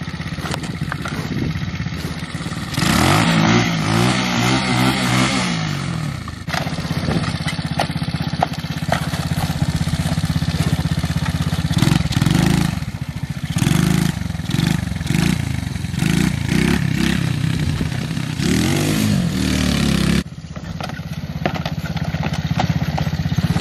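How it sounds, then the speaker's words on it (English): A motorcycle revs hard during a wheelie, close up and loud, with repeated throttle blips and surges over an idling rumble that carries on throughout. "Oh yeah, do a wheelie."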